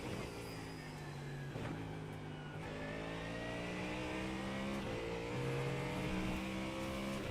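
Ford Mustang race car in a racing video game at the Nürburgring Nordschleife, its engine droning and revving steadily throughout with shifting pitch and gear changes, loud and continuous with no talk.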